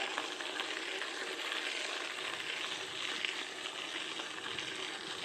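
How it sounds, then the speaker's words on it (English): Bicycle tyres rolling over a gravel path on a sunset ride, giving a steady, close crunching hiss that runs unbroken throughout with no voices. "you should be able to hear the gravel right now"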